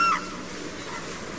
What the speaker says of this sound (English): Crane.